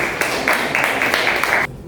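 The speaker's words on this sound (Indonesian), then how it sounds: "tepuk tangan buat kelompok satu" A classroom group claps together for the first presenting group, a burst of dense, close applause with a few sharper slaps, lasting under two seconds before stopping abruptly.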